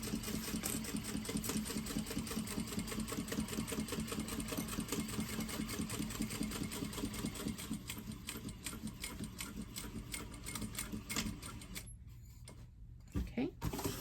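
A sewing machine top stitches along a tote bag, its needle running in a steady, fast rhythmic chatter close by for most of the stretch before briefly pausing near the end and starting again.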